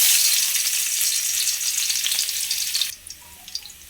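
Garlic frying in hot cooking oil, a loud steady sizzle close up for about three seconds that suddenly drops to a quieter crackle.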